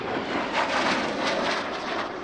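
A pair of Spanish Navy AV-8B Harrier II Plus jets flying a two-ship airshow display give off a brief, moderately loud jet roar with a faintly wavering, breathy rush throughout.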